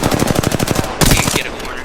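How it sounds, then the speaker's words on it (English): Rapid automatic gunfire from the video game Apex Legends, a loud sustained burst of evenly spaced shots followed by a heavier blast, close and dominant with little else beneath. "I am taking fire, friends."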